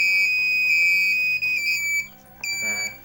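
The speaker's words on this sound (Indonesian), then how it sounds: "Kalau terlalu dekat, buzzer 2 akan bunyi gitu." A shrill electronic buzzer on an automatic railway gate prototype beeps loudly and steadily, breaking off briefly twice before sounding again.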